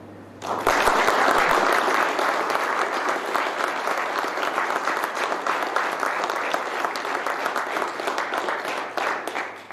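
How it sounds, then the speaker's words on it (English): An audience at a military retirement ceremony gives a big, sustained round of applause for a family, loud, dense clapping that starts abruptly and carries on steadily indoors before tapering off. "let's give a big round of applause to the Leinbach family"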